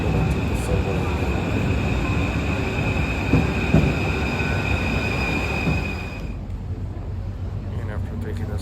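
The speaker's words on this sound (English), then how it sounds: "Then I took the subway." A Paris subway train ride: a loud, steady rumbling roar of wheels and carriage with high whining tones, continuous throughout, easing slightly toward the end as the train slows.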